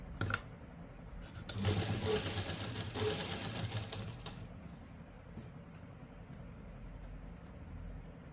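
A sewing machine runs stitching a folded seam on a simple suit, its motor whirring steadily with a louder burst in the first few seconds before settling into a quieter hum.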